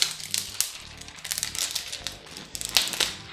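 Plastic wrap around a new Positivo Ryzen 7 laptop crinkles and crackles while it is unboxed, in close, irregular bursts of rustling that come one after another.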